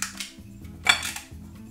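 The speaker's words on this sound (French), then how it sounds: "Vous l'ajoutez à la casserole" Butter stirred into pasta in a saucepan with a wooden fork, a few light knocks and scrapes against the pan with a soft clink, close and quiet, with no talk.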